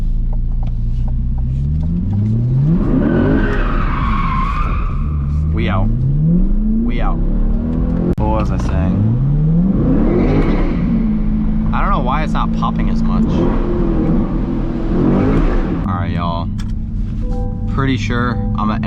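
Straight-piped C8 Corvette driving at night in Miami, its engine revving up and down in repeated rising pulls with crackling exhaust, loud and close from inside the car.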